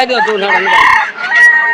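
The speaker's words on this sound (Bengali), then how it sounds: "এই যে দেখেন এখনো মুরগি কিন্তু আসতেছে" Chickens at a busy poultry market after Friday prayers, loud and close, clucking steadily with a crowing call rising out of the flock partway through.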